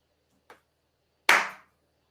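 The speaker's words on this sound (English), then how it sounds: "And you hear clapping." Isolated hand claps sound in an eerie horror audio drama: a faint single clap, a short pause, then a much louder, sharper clap that rings out and fades, with silence around them.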